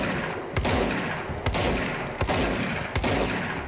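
Gunfire in the video game Control rings out as a series of sharp, punchy shots, four or five distinct bangs spaced roughly a second apart with short echoing tails in between.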